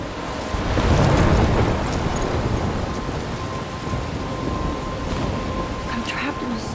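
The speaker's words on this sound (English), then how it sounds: "I'm trapped in a storm?" Heavy rain pours steadily in a thunderstorm in the game Life Is Strange, with a deep rumble of thunder swelling early on, close and loud, then settling into a dense, continuous downpour.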